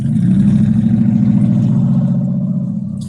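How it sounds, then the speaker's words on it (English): A loud truck rumbles past nearby, a heavy low engine drone with rattling clatter that stays strong before easing slightly as it moves off. "It's a loud truck."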